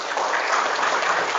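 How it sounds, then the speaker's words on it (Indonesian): A brief burst of crowd clapping from an audience of Islamic boarding school students at a religious gathering, steady and fairly loud, a dense wash of hands over little more than a second. "Mantap, tepuk tangan dulu."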